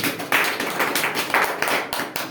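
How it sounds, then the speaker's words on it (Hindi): An audience at a health and business seminar claps in uneven bursts, with loud irregular slaps that rise and dip over about two seconds. "एक बार जोरदार तालियां बजाइए"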